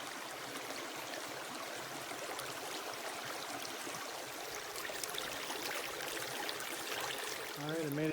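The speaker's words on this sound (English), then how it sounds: "I made it down to Rollins Creek" Rollins Creek on the Superior Hiking Trail flows in a steady, soft broadband rush, faint and continuous with slight swells toward the end.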